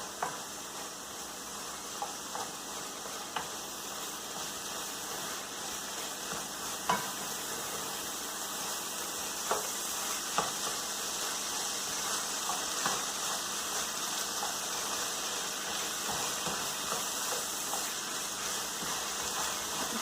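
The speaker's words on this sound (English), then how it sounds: "we're just going to cook some of that raw flour out" Flour cooks in a pan of onions to thicken a casserole sauce, giving a steady soft sizzle with occasional faint stirring scrapes, close and continuous without talking.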